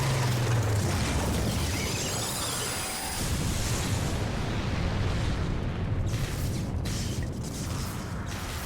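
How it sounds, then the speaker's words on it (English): A game explosion in Final Fantasy XIV Online, a dense sustained roar and rumble rolling on for several seconds alongside mechanical effects and music-like tones, with no voices. "We all face away from the explosion."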